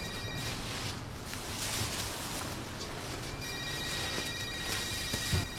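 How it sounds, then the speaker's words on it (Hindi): Telephone ringing indoors in a drama scene, a faint repeating electronic ring tone pulsing through the background, with no one speaking. "मैडम, ये फ़ोन उठा लें या फिर इसको ऑफ कर दें?"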